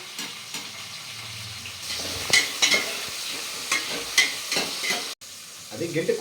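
Nellore-style fish curry with onion and tomato being stirred as it fries in a pan, giving repeated scraping strokes over a steady sizzle, fairly close and moderate in volume, with a brief cut near the end.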